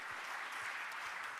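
A congregation claps together in praise to God during a Korean church's Wednesday-night worship service, a steady, dense wash of many hands, faint and distant, with no voices over it.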